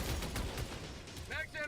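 A deployed sentry turret in Helldivers 2 fires rapid bursts of gunfire amid loud battlefield noise, with a voice briefly heard near the end.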